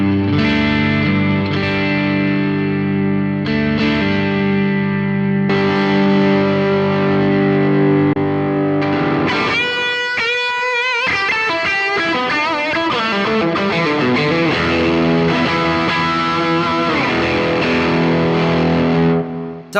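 An electric guitar runs through a custom preset on a Boss WAZA Tube Amp Expander, giving heavy distorted chords with chorus and reverb that ring continuously. A brief sweeping swirl comes midway, then more dense, loud playing, with no talking.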